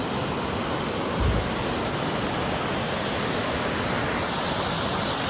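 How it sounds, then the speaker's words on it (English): Water pouring over the dam at the end of Lake Maumelle, a loud, steady broadband rush of whitewater filling the scene without break, heard close by. "Flowing pretty good. There's pretty good white water down that way."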